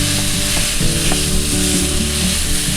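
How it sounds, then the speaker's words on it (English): Lean ground beef sizzles and spits in a hot skillet, a loud, steady frying hiss with occasional scraping and stirring, no voices. "I'm just gonna add in my lean ground beef."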